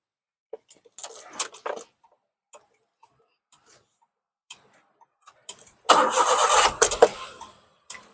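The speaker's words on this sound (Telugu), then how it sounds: "ఒకసారి ఇంజిన్ కూడా స్టార్ట్ చేసి చూపిస్తాను" A 2012 Hyundai Eon Era+ car is started up close. A few sparse clicks and taps come first, then a loud, brief burst of cranking and firing before the engine sound falls away.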